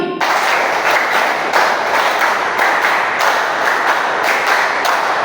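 Schoolchildren in a social studies class clap together in a teacher-led clapping routine, a loud, close, dense wash of many hands with faint pulses in the rhythm, continuing steadily without talk.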